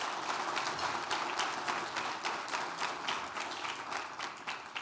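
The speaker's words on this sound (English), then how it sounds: "let's give her a round of applause" A Hall of Fame induction audience gives a round of applause, a fairly quiet, sustained wash of many hands clapping that tapers slightly toward the end.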